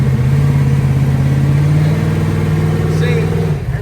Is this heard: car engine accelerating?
yes